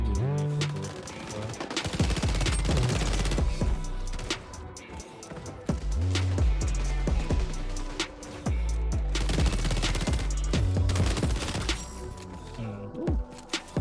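Vector submachine gun fire in XDefiant: loud, close, fast automatic bursts repeating in several long strings with brief pauses between, over background game noise.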